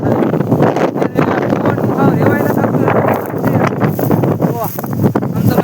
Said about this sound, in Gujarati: જો મિત્રો પવન કેમ આવે જો અવાજ